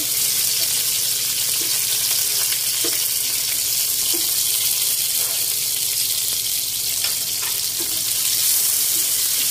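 Chopped onion and capsicum frying in hot oil in a pan for chicken pasta, a constant loud hissing sizzle with faint scraping stirs, no voices.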